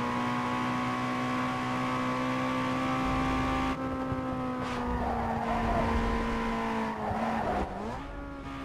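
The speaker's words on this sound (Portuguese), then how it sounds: "Mudou pra caramba o som do motor do carro, né? Ficou mais potente" Tuned street car engine in the racing game Need For Speed Underground 2 holds a steady high-pitched drone, climbing and shifting as the revs change, with brief tire squeal near the end.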